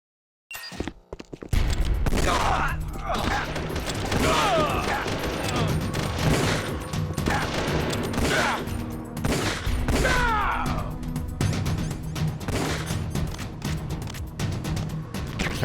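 Sustained video-game gunfire from Metal Gear Solid: The Twin Snakes, a dense, loud fusillade of rapid shots and crashing impacts running almost continuously after a brief silent start, with a voice briefly heard among the shots.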